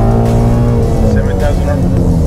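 A Ford Shelby GT350 with a K&N intake revs hard toward 7,000 RPM in second gear, a loud, steady engine roar held close throughout while someone talks over it.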